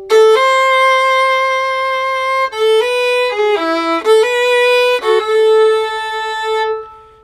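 A fiddle plays the opening melody phrase of a tune in clear, sustained bowed notes that step up and down over several seconds, played solo and close.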